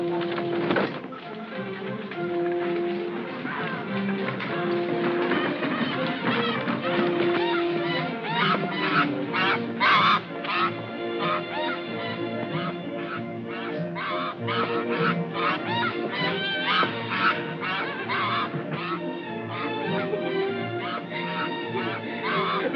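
A goose honks repeatedly in a 1940s period film scene, a rapid run of loud nasal calls that continues almost without pause, close and prominent over faint background voices.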